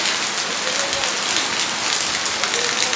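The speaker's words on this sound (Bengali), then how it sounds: "জমজমিয়ে বৃষ্টি," Heavy rain pours down in a dense, even hiss of drops striking surfaces, loud and unbroken throughout.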